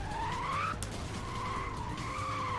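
Hot Wheels World Race video game car sliding sideways under the handbrake, giving a loud continuous tire squeal that holds its pitch and wavers over an engine drone, with no talking.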